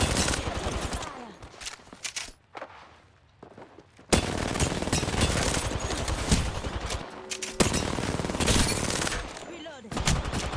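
Repeated bursts of video game gunfire, loud rapid volleys broken by a quieter lull, then dense sustained automatic firing resuming sharply and continuing to the end.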